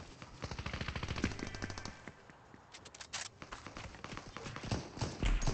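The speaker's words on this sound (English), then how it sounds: "Someone shooting from behind us." Rapid bursts of gunfire in Fortnite zero build, shotgun and automatic weapon fire crackling in quick repeated volleys, some dense and continuous, others spaced out, fairly close and loud.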